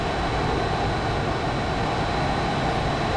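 Aircraft engine in the VR flight game Dawn of Jets, a steady loud roaring drone that holds constant throughout without pause.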